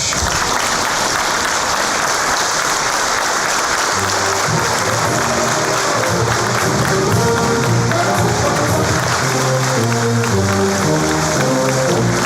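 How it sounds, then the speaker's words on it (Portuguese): An audience at a lecture by General Mourão on Freemasonry and society bursts into hearty, sustained applause to welcome a speaker; after a few seconds music begins and carries on over the fading clapping. "Será recebido com efusivas salvas de palmas de todos nós."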